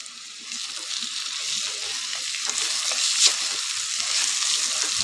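Ginger is stirred into mutton gravy frying in a pan, giving a steady, close sizzle with soft scraping of the spoon throughout.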